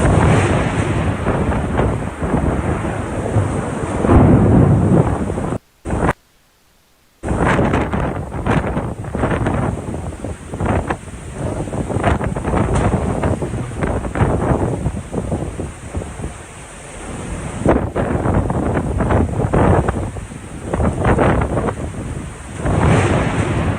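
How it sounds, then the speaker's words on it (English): Violent eyewall winds of Hurricane Ian at Port Charlotte, a loud continuous roar with heavy wind buffeting on the microphone and surging gusts, broken by one brief dropout. "incredible violent eye wall of Hurricane Ian from Port Charlotte, frequent lightning, beastly roar, and transformers blowing everywhere."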